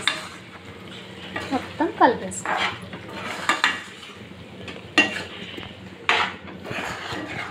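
Gongura paste is stirred into chicken curry in a pan, with close spoon scrapes and clinks against the metal over a light sizzle. A voice speaks briefly during the stirring.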